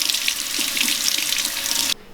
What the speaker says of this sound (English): The first thing we're going to want to do is wash off potatoes.